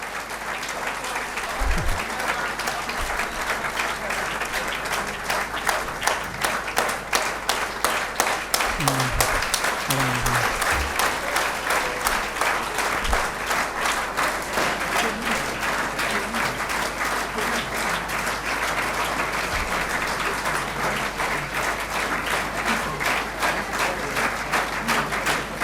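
Audience clapping steadily and fairly close at a motivational seminar in Begusarai, a dense continuous patter lasting throughout, with brief low thumps and faint voices surfacing under it.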